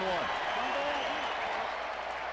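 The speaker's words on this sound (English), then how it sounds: "They're on their feet here at Chase Field, a sellout opening night crowd." A sellout opening-night baseball crowd at Chase Field applauds and cheers in a steady, dense roar, with an announcer talking over it.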